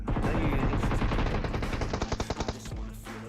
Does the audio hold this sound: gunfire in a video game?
yes